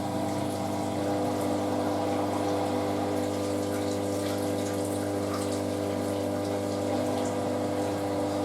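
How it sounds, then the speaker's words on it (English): A Hotpoint Aquarius WM63 washing machine fills with water, giving a steady rushing hiss of inflow over a constant hum, unbroken and fairly loud throughout. "she knows I'm doing laundry when she can hear that sound of water."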